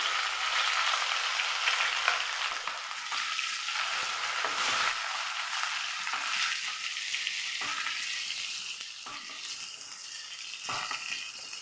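Garlic, ginger and curry leaves frying in hot oil, with a steady loud sizzle and crackle and occasional stirring scrapes throughout, close up.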